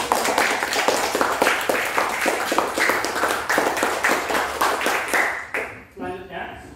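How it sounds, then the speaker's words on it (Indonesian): A classroom group clapping together in a quick rhythmic pattern of repeated claps that holds steady, then breaks off as a voice begins. "Tepuk tangan dulu."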